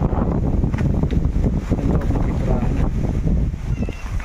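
Steady wind buffets the microphone in a continuous roar outdoors beside a fishing boat being painted in the Philippines, with a low rumble underneath and no clear pauses.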